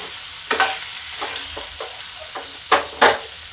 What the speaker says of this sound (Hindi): थोड़ा सा हल्का भून लेंगे